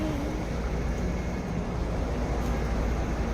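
A family car on a road trip toward Indore, heard as a steady broadband vehicle rumble with low-end road noise, continuous and fairly loud throughout, with no talking.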